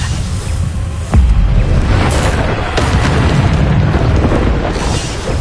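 Bombarda explosion spell cast in Hogwarts Legacy, a loud booming blast with a rumbling tail and a few sharp pops over a dense game soundscape.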